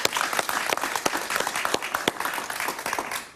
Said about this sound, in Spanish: Un aplauso para María Corina.